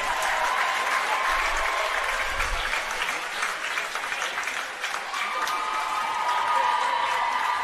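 Crowd at a NESCAC women's swimming and diving championship applauding the student athletes, a continuous wash of clapping and cheering at moderate level with a voice briefly audible near the start.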